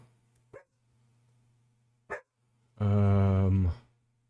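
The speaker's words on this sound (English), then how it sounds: "She's just gonna have to bark this time" A dog in a modded video game gives a single loud, drawn-out bark after a couple of short clicks, over a low steady hum.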